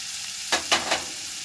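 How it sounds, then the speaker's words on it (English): Seasoning sautéing in hot coconut oil makes a steady close sizzle, with three quick stirring scrapes of a utensil standing out briefly above it. "Saute in the coconut oil."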